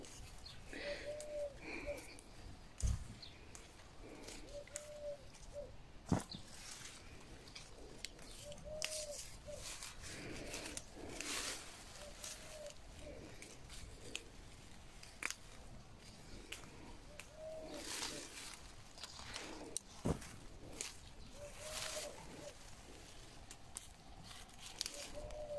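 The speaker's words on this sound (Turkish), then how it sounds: "Guguk kuşu başlamış ötmeye." A cuckoo calls repeatedly outdoors in an olive grove during the olive harvest, its paired mid-pitched notes faint and distant, recurring at intervals over rustling, clipping and handling noises nearby.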